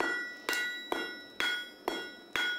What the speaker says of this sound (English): You can see the sledgehammer is displacing a lot more material than the 2-pound hand hammer.